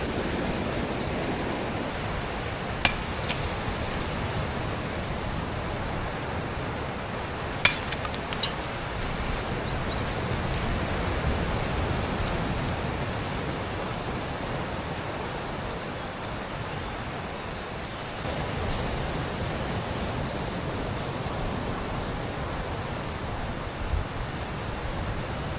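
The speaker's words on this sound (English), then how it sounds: "Rain just came down super heavy." Heavy tropical rain pours down steadily and densely on a coast, a continuous broadband roar with a few sharp drips or taps standing out, no voices.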